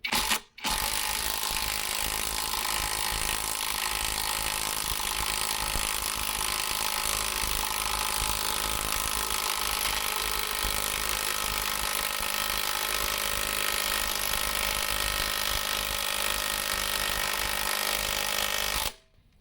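A cordless impact wrench, a cheap AliExpress Hilda unit, runs at its third speed setting in a basement, with a steady loud mechanical whir and rattle held for about eighteen seconds before cutting off.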